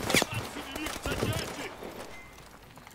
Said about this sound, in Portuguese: Opa, quem tá atirando, meu Deus?